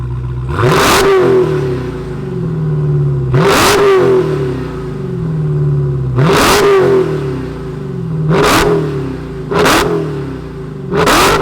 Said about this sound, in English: Let's fire up this Hellcat.